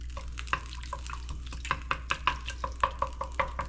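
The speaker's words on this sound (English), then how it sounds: "Stir to combine that." A spoon stirs potatoes into a pot of clam chowder, giving a close run of wet scraping and clinking strokes that quicken into a steady rhythm, with a low constant hum underneath.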